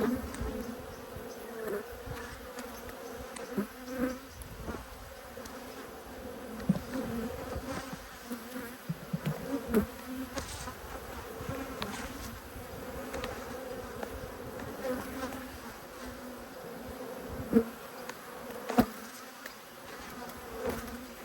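A crowded colony of honey bees hums steadily throughout an open apiary hive inspection, a close, continuous drone with occasional sharper knocks and rustles from handling the frames.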